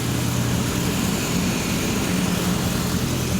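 A freshly rebuilt engine idles during camshaft break-in, giving a loud, continuous, even drone with a steady low hum and no talk.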